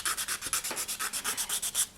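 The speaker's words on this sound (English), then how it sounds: "you're just going to run your piece along the sandpaper" A polymer clay earring piece is rubbed back and forth on wet sandpaper, giving a rapid, even run of about fifteen close, scratchy strokes with no talk.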